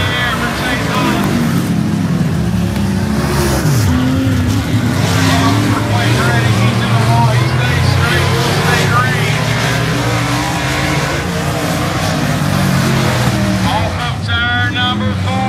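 Race cars roar around the dirt oval at Dothan Motor Speedway during a heat race, a loud continuous engine drone with passing pitch sweeps and surging revs, close and unbroken.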